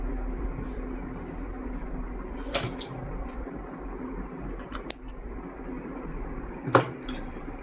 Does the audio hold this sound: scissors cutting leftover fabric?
yes